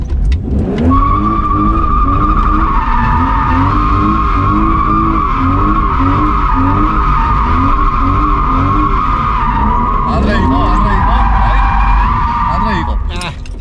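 A drift car spins donuts, its tires shrieking in a long, loud, continuous squeal over a pulsing, revving engine, with people talking in the background.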